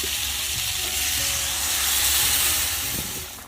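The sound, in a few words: water poured into sizzling curry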